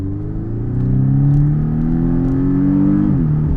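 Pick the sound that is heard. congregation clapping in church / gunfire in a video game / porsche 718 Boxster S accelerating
porsche 718 Boxster S accelerating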